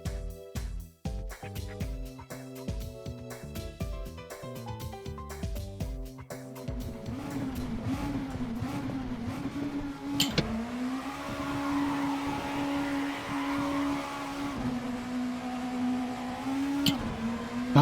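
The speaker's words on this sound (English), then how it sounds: "How to burn your tyres up. Kill them in 100 meters." Car in the Assetto Corsa racing game burning its tyres, starting with rapid gear-change engine bursts and then holding a steady high-revving drone alongside a squealing tyre tone for several seconds, with a couple of sharp clicks.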